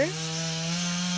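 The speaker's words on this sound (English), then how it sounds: "You don't like that chainsaw." A chainsaw runs in a steady, buzzing drone that holds one even pitch, heard close for a brief moment with no talking.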